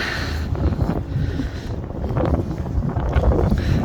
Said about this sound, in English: It's a tiny bit windy here today.